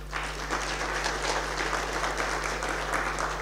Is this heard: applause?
yes